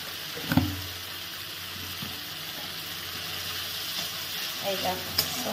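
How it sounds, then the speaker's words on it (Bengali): Spice paste with turmeric and a pinch of sugar fries in a pan for a pabda fish curry, a low continuous sizzle broken by a few spatula knocks and stirring scrapes, nearby and without speech. "এইটা মশলা কষানো হচ্ছে।"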